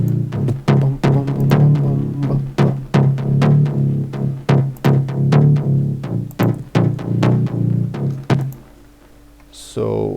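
Layered house bass synths built in FL Studio, with a punchy, attacky mid bass with echo, pulse in a driving rhythmic pattern alongside sharp percussive hits. The sound is loud and close and stops abruptly near the end.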